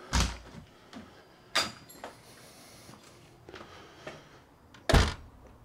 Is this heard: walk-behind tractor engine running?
no